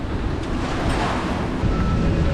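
Strong wind on arrival at Ikaria, Greece, roars and buffets the microphone continuously, a loud broadband rush with possible surf mixed underneath.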